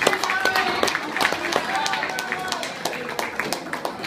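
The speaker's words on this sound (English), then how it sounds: "Give her a round of applause as she comes back to the stage." Audience applause as a female contestant returns to the stage at a singing competition, steady clapping from a room full of people with a voice speaking over it.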